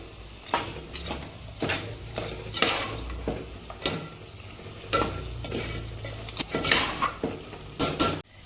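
Mutton curry masala with coriander, cloves, cardamom and cinnamon is stirred in a pan: repeated metal spoon scrapes and clinks in an uneven rhythm over a soft, low sizzle, close up with no talking.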